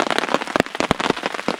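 Dense, steady torrential downpour with sharp spattering hits on a hard surface, loud and close throughout.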